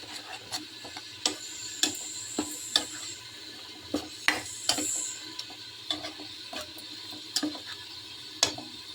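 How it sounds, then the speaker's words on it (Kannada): Chicken curry boils in a pot with salt and turmeric while a spoon stirs it, making irregular clinks and scrapes against the pot over a low, soft bubbling simmer. "ಇವಾಗ ಇದು ಕುದೀತಾ ಇದೆ. ಸ್ವಲ್ಪ ಕೈ ಹಾಕ್ತೀನಿ."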